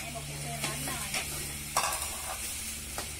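Pad krapao, a Thai basil stir-fry, sizzles softly in a wok while a spatula scrapes and clacks against the metal in several sharp strokes.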